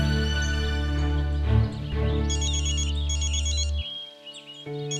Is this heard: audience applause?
no